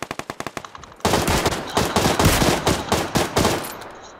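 Gunfire in the PUBG Lite video game: a short run of sharp single shots, then a dense, loud burst of rapid automatic fire lasting about three seconds, heard alone.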